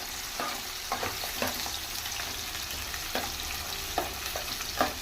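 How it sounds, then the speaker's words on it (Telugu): Onions frying in hot oil with cumin and mustard seeds, a steady close sizzle broken by a few scraping stirs of a spoon in the pan, no voices. "జీలకర్ర ఆవాలు గోలినాయి కదా, ఇంకా ఉల్లిగడ్డ వేసుకోవాలి"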